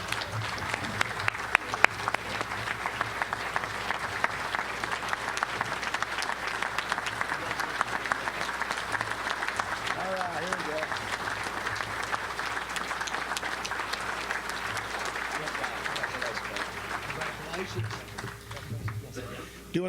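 Sustained applause from a luncheon crowd at the Little Rock Touchdown Club, steady clapping lasting about twenty seconds with some murmuring voices underneath.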